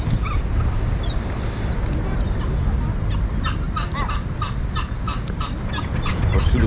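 Birds in a waterfront park along the Bosphorus in Istanbul cluck and call repeatedly, fowl-like chatter close by over steady outdoor background noise.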